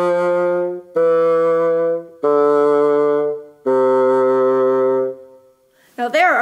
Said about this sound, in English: As I start adding my fingers onto these holes, we get to hear different notes.